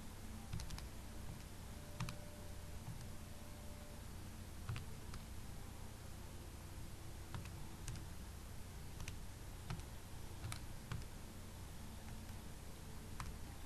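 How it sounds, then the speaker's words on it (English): Typing on a computer keyboard, sparse light key taps scattered over about fourteen seconds against a steady background hiss and faint hum, quiet and close. "I'll just type it in like this"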